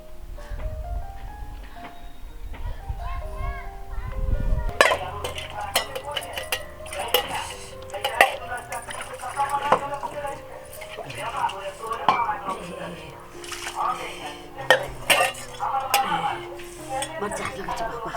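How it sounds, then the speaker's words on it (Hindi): Dishes, pots and cutlery clatter and clink in irregular bursts while being scrubbed, close and busy, with people talking throughout and a quieter stretch at the start. "हमहू जा छी बर्तन मजे"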